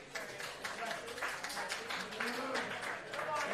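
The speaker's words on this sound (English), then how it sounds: "some sheepish applause for Gunnar here" Scattered, light clapping from a wrestling show crowd rises briefly, soft and somewhat distant, with murmuring voices mixed underneath.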